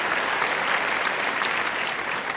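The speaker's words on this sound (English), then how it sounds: "Give her a big round of applause." A talk show audience breaks into a steady, dense round of applause that fills the room at an even loudness throughout, with no voices over it.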